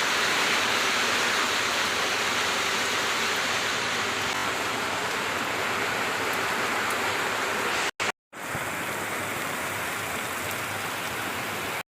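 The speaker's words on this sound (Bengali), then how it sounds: "বৃষ্টি হচ্ছে মারাত্মক বৃষ্টি এবারে খুব বৃষ্টি হচ্ছে তার সাথে হাওয়া হচ্ছে" Heavy rain falls with wind in a steady, loud, roaring wash that continues without a break except for a brief dropout near the end.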